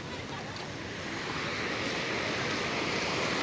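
Large rolling sea waves at a fishport wash and surge steadily in a loud, continuous broadband roar, close to the microphone, with wind buffeting mixed in and no talking.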